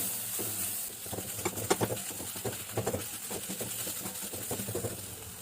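A spoon stirring bitter gourd dorma with ground coriander in a hot pan, soft irregular scraping and clinks over a faint steady sizzle, close and quiet.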